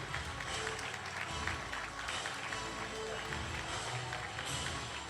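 Crowd at the 2020 national Muay Thai championships in Vacoas applauding trophy winner Dudley Moutoussamy: continuous, fairly distant clapping that carries on under an announcer's voice.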